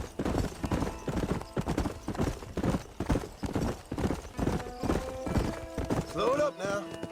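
Horse hooves gallop in Red Dead Redemption on the Switch, a loud, steady rhythmic clip-clop with a short whinny near the end.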